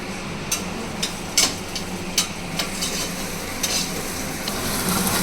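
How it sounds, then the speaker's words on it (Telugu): Ginger garlic paste fries in a pan with a steady sizzle, broken by several sharp clicks and taps of a spoon stirring against the pan. "చూడండి ఫ్రెండ్స్, అల్లం వెల్లుల్లిపాయ పేస్ట్ కూడా వేగిపోయింది."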